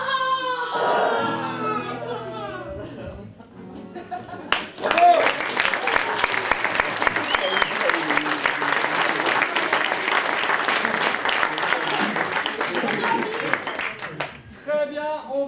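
An audience at an amateur improv theatre show in Algrange claps for the competing teams, a dense, loud round of applause that rises sharply and holds steady, with talk heard briefly just before it.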